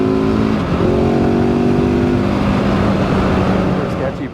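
A Gasgas ES700 motorcycle engine revs hard and accelerates on a January winter ride in Canada, a loud steady roar with rising pitch held for several seconds before easing off.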